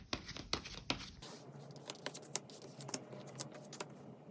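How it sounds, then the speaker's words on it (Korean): Tarot cards being shuffled and drawn during a reading, giving a series of soft, quick papery taps and flicks close to the mic, a few louder snaps at the start, with no voices. "우선 카드를 좀 뽑아보도록 할게요"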